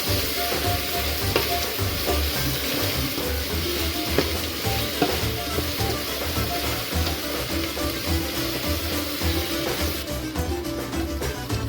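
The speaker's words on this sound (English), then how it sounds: "We'll cook the tomato puree for about 1 to 2 minutes within the onions." Tomato puree cooks with onions in a pan for a beef stifado: a steady, close bubbling sizzle with soft stirring scrapes, running on without a break.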